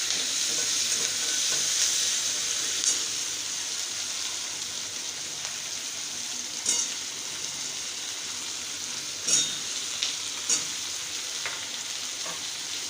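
Potatoes sizzle in oil in a karai for chicken biryani, a steady hiss broken by several sharp stirring scrapes and knocks at irregular intervals, with no speech.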